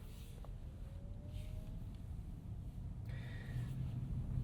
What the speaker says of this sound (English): you can kind of appreciate just the raw electric motor noise